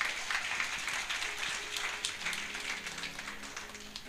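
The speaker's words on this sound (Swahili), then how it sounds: "Pigeni Bwana makofi mazuri." A church congregation claps and applauds during a Kenyan apostolic service, a steady broad wash of hand claps with faint background tones underneath, continuous throughout.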